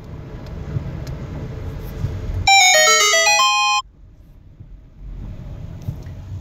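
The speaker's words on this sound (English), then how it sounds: "Apparently I got a voicemail." A phone plays a short melodic voicemail notification chime of rising and falling tones, clear and close, over the low rumble of a car being driven.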